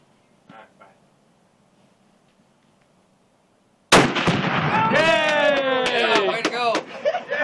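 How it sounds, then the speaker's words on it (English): A rifle shot detonates a Tannerite explosive target outdoors: after quiet with a faint voice, a sudden loud blast booms and rolls into a long echoing rumble, with people talking over it. "We're blowing up Tannerite okay. right now."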